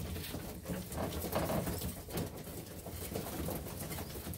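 Pigeons in a loft crowd around and eat food. Cooing rises and falls over the steady patter and shuffle of the flock, close and continuous, with no voices.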